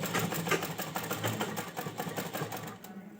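Rapid, even needle clatter of a sewing machine stitching lace onto a Marwadi odhani, close and steady throughout, with faint rhythmic ticking and no other sound.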